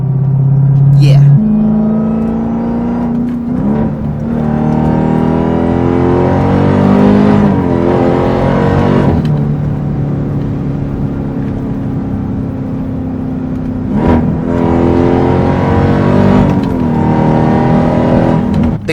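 A Dodge Durango Hellcat engine drones loudly and close, its pitch stepping up and down through several revs over nearly twenty seconds, with a person talking over it.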